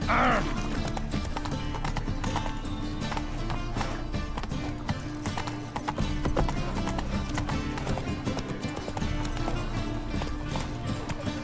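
The horse Roach gallops in The Witcher 3, a rapid, rhythmic run of hoofbeats beneath a constant dense game soundtrack, with a brief whinny near the start.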